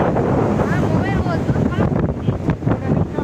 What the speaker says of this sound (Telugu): గాలి అయితే చాలా పీస్ఫుల్గా వస్తుంది.